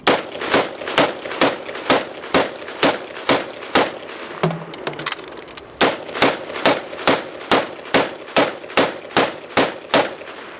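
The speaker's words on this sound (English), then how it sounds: "Now we'll shoot the same target array with 2 10-round magazines." Two 10-round magazines of rapid rifle fire at a target array, sharp evenly spaced shots ringing out loud and close, with a brief pause near the middle for the reload before firing resumes.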